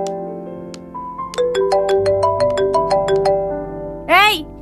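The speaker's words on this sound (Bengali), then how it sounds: "এই, তোর ফোন তো বেজেই চলছে।" A mobile phone ringtone plays a bright, repeating melodic tune of clear tonal notes, moderately loud and steady, ending with a brief rising voice-like sweep near the close.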